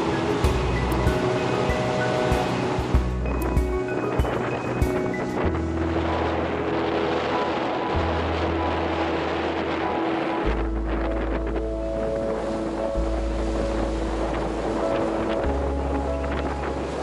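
A sailboat running under wind power through open sea as a squall comes through, with a steady roar of wind buffeting the microphone and water rushing against the hull. Low engine-like drones shift underneath, and the noise stays loud and continuous throughout.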